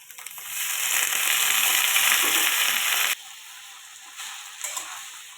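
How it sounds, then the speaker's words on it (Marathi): Garlic and chopped green chilli frying in hot oil before fenugreek greens go in, a loud bright sizzle that cuts off abruptly, followed by a quieter pause and a few faint stirring scrapes. "आता छान पैकी असं मी आता परतून घेते मेथीची भाजी"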